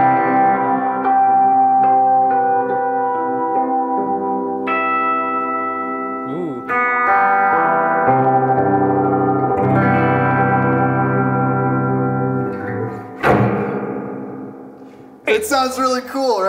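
A spring reverb effect unit heard through a guitar, sustained chords washing and ringing with metallic echo, a sharp boing-like crash near the end, loud and close with no talking.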